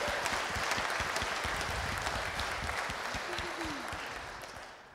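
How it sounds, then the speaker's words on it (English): Congregation applauding during a Sunday church service, a broad wash of many hands clapping at a moderate distance, holding steady before fading out toward the end. "Round of applause for Ryan"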